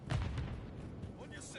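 A frag grenade goes off in Modern Warfare 3 with a muffled low boom early on, followed by faint rumbling game combat noise, all quiet and distant-sounding.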